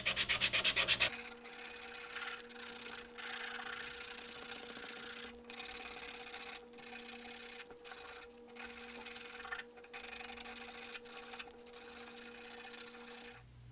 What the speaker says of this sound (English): now I'll switch over to the 120 grit sandpaper and work this area by hand